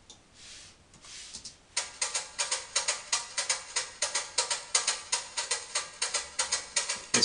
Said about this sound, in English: It's cascara.